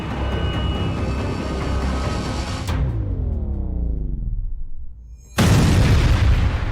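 A big explosion from the Krasnodar blast in Russia, with a deep rumbling boom and roaring fire followed by a falling sweep, a brief quiet, and then a second sudden loud blast.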